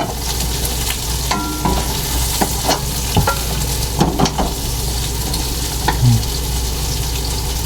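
Garlic and onion sizzle in a pan with a steady close frying hiss, broken by scraping stir strokes and clinks of a utensil against the pan, without speech.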